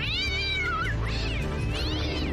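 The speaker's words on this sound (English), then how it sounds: "Typical cat." A cat meows in a clear, drawn-out wail, then follows with two more rising and falling calls over a steady low hum, close and fairly loud, with no talking.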